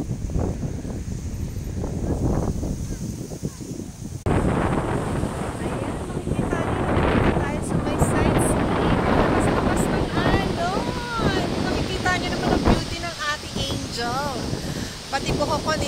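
Strong gusting wind of a sandstorm in Casablanca, Morocco buffets the microphone throughout, with a steady roar and speech audible underneath.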